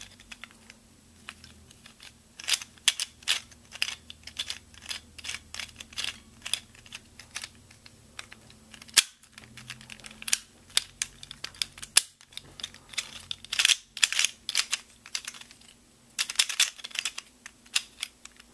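Small plastic gear shift puzzle pieces click and snap into place in quick, irregular bursts, close by and fairly quiet, with a faint steady hum underneath.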